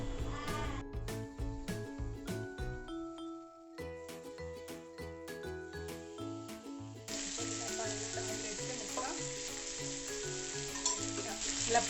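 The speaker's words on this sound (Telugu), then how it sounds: "ఆయిల్ని ప్యాన్ మొత్తం స్ప్రెడ్ చేసుకున్న తర్వాత మనం కలిపి పెట్టుకున్న ముక్కల్ని వేసుకుందాం." Semolina-coated fish pieces frying in a little oil in a pan, a soft sizzle that grows into a fuller, steady hiss partway through, heard faintly beneath tonal background music.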